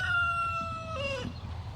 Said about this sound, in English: I'm going to take you to the chickens in the back here because they're being very loud.